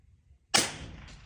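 A .22 LR Bergara B14 rifle fires one shot at a steel dueling tree: a single sharp, close crack with a ringing tail that fades over the next second above faint background noise.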